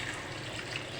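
Water goes into a pot of cooking onions, drumstick pieces and garlic paste as a short, steady, fairly quiet rush of pouring liquid, with nobody talking.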